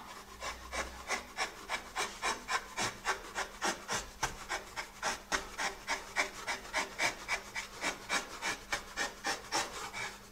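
A hand gouge carves a wooden staff, giving steady rhythmic rasping strokes about twice a second, close and even, with no talk.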